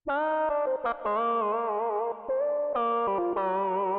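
A bright synth keyboard tone with its pitch bending up and down between held notes, loud and continuous with short gaps, no voices.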